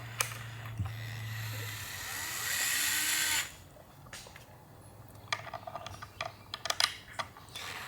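An electric screwdriver removing the control plate from a Fender Telecaster, a short high whir running about a second, followed by clicks and rattles of screws and parts being handled.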